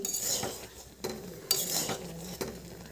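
Fried ground spice powder being stirred into a pan of olive pickle, with a few sharp utensil knocks against the pan over a soft, steady sizzle, heard up close with no talk.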